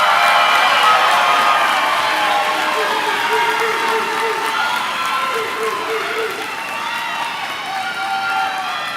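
A crowd at a 2025 high school graduation ceremony claps and cheers for the graduating students, steady broad applause throughout that fades slightly toward the end, with a few shouts and a voice over it.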